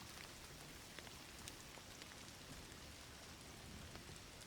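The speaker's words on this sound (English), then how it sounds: "Don't you love rain?" Steady rain in a video game patters evenly on surfaces, a soft continuous hiss with scattered drops, quiet and unbroken, no talking.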